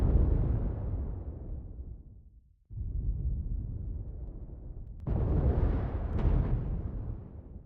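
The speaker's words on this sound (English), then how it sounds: "Bowser just firing his cannons as much as he can." Bowser's cannons in a video game boom heavily several times, each rumbling blast fading off slowly before the next one lands, loud and close with no one talking.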